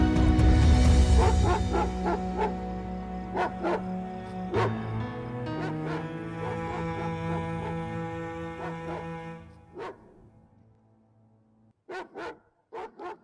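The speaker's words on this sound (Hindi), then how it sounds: "ये कुत्ते इतने क्यों भौंक रहे हैं?" Several dogs bark in repeated sharp bursts, loud and close, with whimpering yips in between; the barking fades out, then returns in a short cluster of barks at the end.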